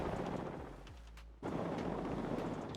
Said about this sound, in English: Flak cannon is close.